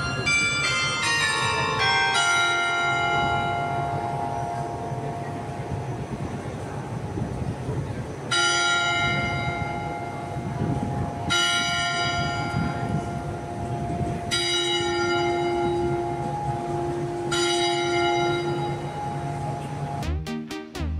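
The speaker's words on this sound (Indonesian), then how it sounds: "Yang teman-teman dengar tadi itu adalah lonceng ya, menunjukkan jam." A large clock tower bell in Singapore tolls the hour repeatedly in slow, evenly spaced strikes, each ringing out and decaying, over steady background rumble and murmur.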